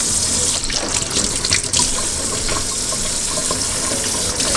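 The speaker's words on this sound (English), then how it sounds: "I'm gonna water this plant" Water runs steadily from a tap or watering stream onto a freshly repotted houseplant fitted with a moss pole, a continuous close splashing and trickling with no talk.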